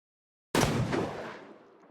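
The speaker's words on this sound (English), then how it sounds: "Gunfire can be heard outside the cellar." A single loud gunshot-like blast after a moment of silence, with a long echoing decay.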